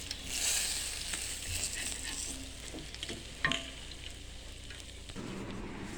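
Jilebi fish frying in a pan, giving a constant close hiss and crackle of hot oil with a few soft knocks, fairly quiet and with no talk.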